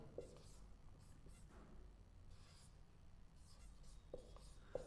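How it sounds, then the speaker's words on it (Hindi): Marker or chalk writing on a board during a geography lesson, soft faint rubbing strokes with a few small taps, quiet against low room hum. "यहाँ पे मैं लिख देता हूँ प्रशांत महासागर"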